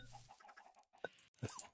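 Short bursts of Minecraft chicken clucking, a few separate calls with brief pauses between them, close and fairly clear.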